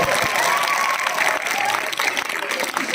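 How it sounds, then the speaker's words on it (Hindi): At a school maths quiz contest, an audience claps for the first- and second-ranking boys, a steady, dense round of applause with some cheering and a faint whistle-like tone mixed in, lasting about three seconds. "जोरदार तालियां लड़के।"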